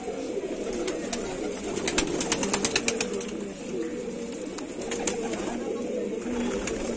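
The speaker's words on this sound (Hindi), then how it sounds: "बाकी ये सारे कबूतर हैं" Pigeons at a Moradabad summer pigeon tournament loft, with soft cooing and bird calls over a steady murmur, and a brief burst of fluttering wing flaps in the middle.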